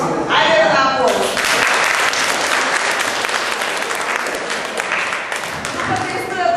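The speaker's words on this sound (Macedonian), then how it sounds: "Ајде на аплауз." Students in a classroom workshop give loud, sustained applause right after a brief spoken voice, with a full, continuous wash of clapping that holds steady to the end.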